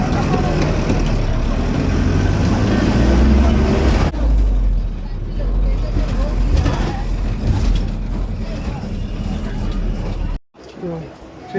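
A bus pulling up and driving on a busy road at night, with a loud engine rumble, passing traffic noise and a brief dropout, while a person talks over it.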